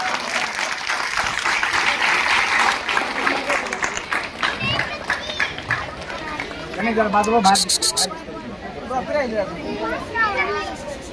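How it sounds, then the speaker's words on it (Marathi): Loud applause from a village award ceremony crowd fills the first several seconds, then fades into crowd chatter and someone speaking over a loudspeaker. "टाळी वाजवा सर्वांनी जोरात."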